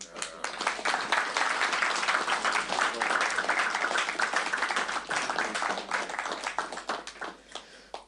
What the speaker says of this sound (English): can you give a round of applause for the first